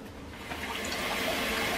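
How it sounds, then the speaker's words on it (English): Tap water runs into a pot being filled for pasta in a home kitchen, a steady rushing stream that grows slightly fuller and louder as it goes on, with no voices. "I'm filling my water for my pasta"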